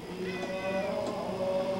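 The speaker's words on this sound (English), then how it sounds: "let's get a close-up of the cat's face here" A cat meows at close range in a home at Christmas, a drawn-out, wavering tonal cry that rises and falls over the whole stretch, fairly quiet against a faint background.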